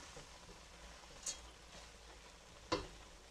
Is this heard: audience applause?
no